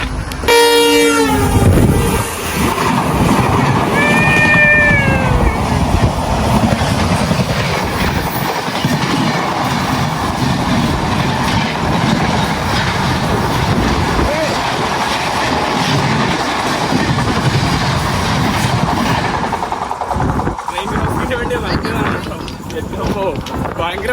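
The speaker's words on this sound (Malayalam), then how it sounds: "നമ്മുടെ ട്രെയിൻ ക്രോസിങ്ങിന് വേണ്ടി നിർത്തിയതാണ് കേട്ടോ" A train rumbles and clatters steadily nearby, heard from a local train on a Gujarat to Kerala run halted at a crossing, with a horn sounding at the start and a short whistle partway through.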